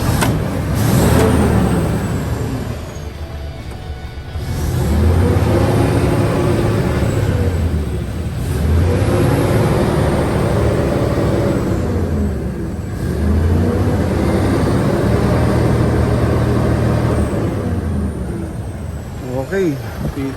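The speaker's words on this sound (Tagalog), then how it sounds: "Ngayon i-revolution po natin. Malaman natin kung pino pa rin ang handa o takbo ng makina." A 16-year-old Fuso Super Great 10-wheeler truck with a 6M70 semi-electronic diesel engine revs repeatedly, three or four loud swelling pulls rising and falling at close range under an idle, with no talk over it.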